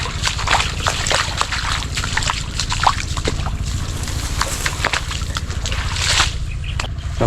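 Irrigation water pours and sloshes steadily into a flooded rice field, a continuous near wash of running water with a low engine-like hum beneath and scattered splashes throughout.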